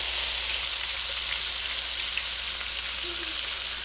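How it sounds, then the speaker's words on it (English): Sand fleas fry in hot grease at a beach cookout, a steady, loud, continuous sizzle and crackle with no talking. "See that thing sizzling."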